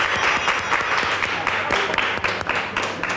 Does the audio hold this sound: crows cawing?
no